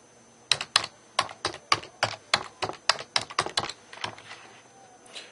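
Password being typed on a computer keyboard, a quick run of about twenty crisp, close keystrokes in an uneven rhythm with no talking.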